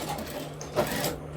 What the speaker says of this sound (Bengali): এই তারপর এখানে একটা সেলাই দিয়ে নিলাম, এখানে আর একটা দেবো।